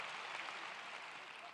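Broad, steady applause from an audience at a 2023 university commencement ceremony, filling the space evenly for a short stretch with a soft murmur of voices underneath.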